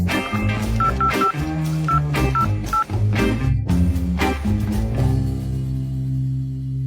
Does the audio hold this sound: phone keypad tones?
yes